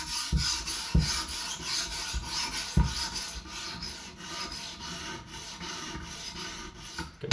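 Vintage carbon steel knife blade drawn across a sharpening stone to raise a burr, a close rhythmic series of raspy scraping strokes with sharp onsets about every second, no voices.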